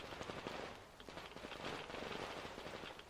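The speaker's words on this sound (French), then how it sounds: "J'entends des coups de feu de partout." Rapid bursts of video game gunfire in Metro Exodus crackle continuously at a distance, fairly quiet and dense, with shots overlapping in a rattling stream.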